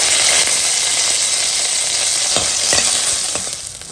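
Fresh ginger and curry leaves sizzle loudly in a pan, a steady bright frying hiss broken by a few sharp crackles and spatula scrapes near the end, with no voices.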